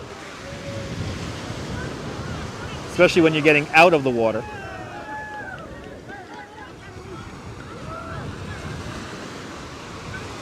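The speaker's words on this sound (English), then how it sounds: "the wind makes this a little tough" Wind buffets the microphone and surf rolls in steadily at a cold Coney Island beach, a broad continuous roar under brief bursts of talk and shouting from people nearby.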